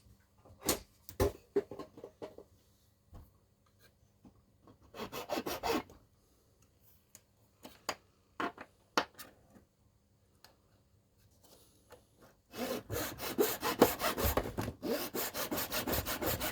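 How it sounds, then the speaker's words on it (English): A hand saw cutting a piece of plastic for a Scalextric Ford Escort Mk1 car body, heard as scattered short rasping strokes at first, then a steady run of rapid back-and-forth sawing, close and clear. "I just want to cut it."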